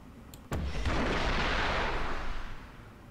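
A Stormer HVM anti-air vehicle in War Thunder fires missiles: a sharp launch crack followed by a loud, sustained rushing roar that holds for a couple of seconds before easing, with no talk.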